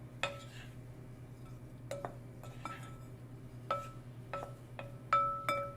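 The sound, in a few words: stirring bread cubes with oil in a bowl for croutons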